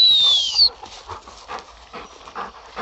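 Labrador retriever gundog gives a brief high whimper at the start, followed by soft panting and shuffling close by outdoors during training.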